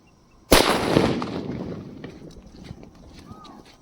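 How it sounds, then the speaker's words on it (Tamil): A cylinder firecracker bursts with a single sharp, loud bang that scatters coloured paper, followed by a long fading rumble and scattered faint crackles, with no talk. "பாருங்கள் வெடித்து சிதறிடுச்சிங்க"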